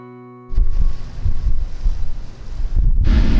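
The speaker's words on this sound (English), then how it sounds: "we are rocked to sleep by the wind" Strong wind buffeting the microphone at a backroad campsite in Texas, with a deep roaring rumble, steady and loud, with no voices.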